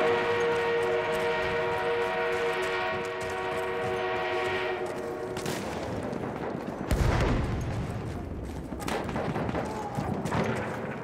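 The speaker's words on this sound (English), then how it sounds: "armored train en route." An armored train rumbles along in Battlefield 1, a steady heavy mechanical drone with sustained whistle-like tones, then a sharp blast and continued battle noise around it.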